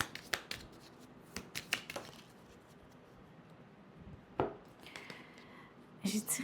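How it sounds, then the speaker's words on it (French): Tarot cards being shuffled and drawn by hand in a quiet room: a few quick papery riffles and snaps early on, then a pause, a single slap of a card and a louder shuffling burst at the end. "Donc, je vais tirer plus de cartes."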